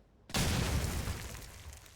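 A loud RPG explosion from the Call of Duty 4 video game bursts in suddenly with a heavy boom, then a long rumbling tail slowly fades over the next second and a half.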